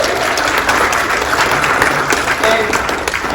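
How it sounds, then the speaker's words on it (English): Steady applause from a sizable audience, dense clapping holding at an even level throughout with no pauses. "Let's give her a round of applause as well."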